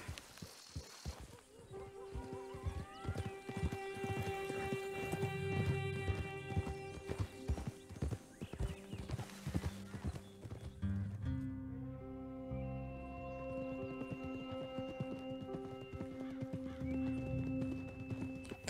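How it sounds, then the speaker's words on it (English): Horse hooves clip-clop steadily through a Red Dead Redemption 2 game scene, with an occasional whinny and game music running underneath the whole time. "El caballo que tiene este güey,"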